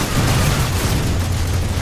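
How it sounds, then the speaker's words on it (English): A C4 explosion set off in a video game, a loud, sustained rumbling boom with heavy low-end roar filling the whole stretch, with no speech over it. "Hit the C4, I'll make a bigger explosion."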